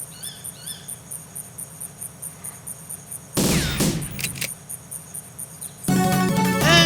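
Two loud bursts of rapid, sped-up assault rifle fire in GoldenEye on the N64 break through a quiet backdrop of chirping insects and birds.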